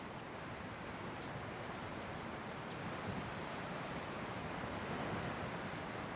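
Ocean surf rolls onto a beach in Kauai as a steady, broad wash of waves with breezy rustle, continuous and fairly close, with no talking.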